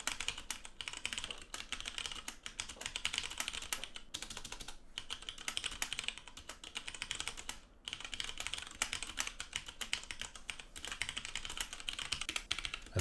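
Fast, continuous clatter of keys on a computer keyboard, typed while writing code comments in Unity, with short pauses near four and eight seconds and no voices.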